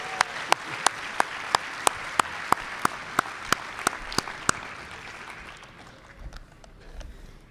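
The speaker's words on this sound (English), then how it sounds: "a loud and well-deserved round of applause" A round of applause fills a banquet hall at an Iditarod after-race dinner, with dense steady clapping punctuated by louder individual claps, fading out over the last few seconds.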